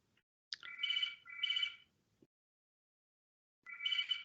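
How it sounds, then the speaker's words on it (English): A phone rings in the background of an online council meeting, giving two short warbling electronic rings, then a pause and a third ring. The rings sound moderately faint, and no one is talking. "Apologies for my phone going off in the background."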